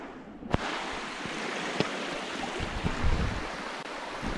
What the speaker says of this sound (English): here we are in the waterfall